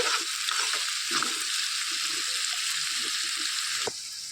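Onions and green chilies fry in a pan with a bright, steady sizzle, loud and close, broken by light spatula scrapes and stirring taps.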